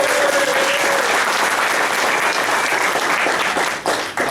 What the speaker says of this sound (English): you guys are already clapping your hands, so give yourselves a round of applause